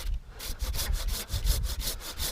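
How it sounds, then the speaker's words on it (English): Handsaw cutting through a tree branch during arborist climbing work, rapid rhythmic back-and-forth strokes, close and clear, with no talk. "I'm just going to finish the cut with my handsaw"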